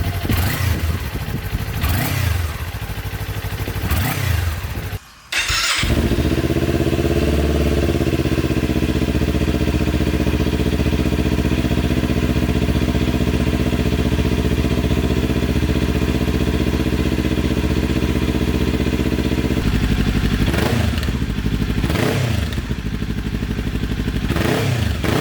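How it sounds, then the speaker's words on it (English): A Kawasaki Ninja 400 motorcycle fitted with an Akrapovic exhaust idles loudly and steadily at close range. Short throttle blips rise and fall at the start and again near the end, and a brief cut breaks the sound early on. "I will do a couple of revs just so you can get an idea and the difference between the stock exhaust and the Akrapovic"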